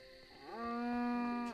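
A single drawn-out cow moo in a sci-fi Mars survival video game, rising into a strong steady bellow lasting about a second, loud and close with no talking.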